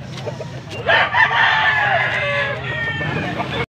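A young gamecock (stag) crows loudly and close at a rooster auction in Angeles City, Pampanga, one drawn-out, wavering call over a murmur of background voices and crowd noise.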